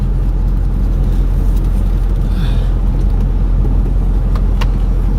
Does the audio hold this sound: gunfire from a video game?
no